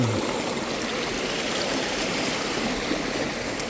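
A clear river stream flows beside a campsite in Bailen, Cavite, a constant, fairly loud rushing and burbling of water close by, with no voices.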